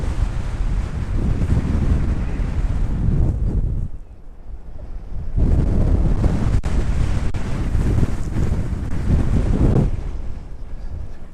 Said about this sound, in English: it would be blowing all over the place in this wind